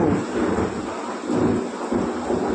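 Deep rolling thunder rumbles continuously over the hiss of steady rain, loud and close.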